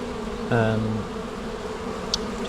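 Honeybees buzz around the entrance of a poly nuc split hive, with a steady low hum and one louder bee droning past close by.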